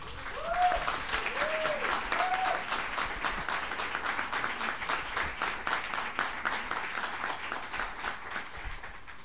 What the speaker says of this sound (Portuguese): Uma salva de palmas para o Nelson Maca.